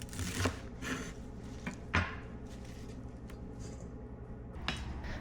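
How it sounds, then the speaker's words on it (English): Thick stalks are cut from chrysanthemum leaves in a kitchen, a few faint, sharp knife cuts and taps on a board spaced a second or more apart over quiet background noise, with no talking. "Cut off the thick stalks."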